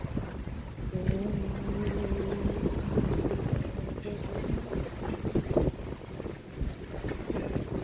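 A cool wind blows outdoors at Chan Ta Then Waterfall in Si Racha, Chonburi, rumbling across the microphone in a steady, rough buffeting with occasional stronger gusts and a faint tone early on.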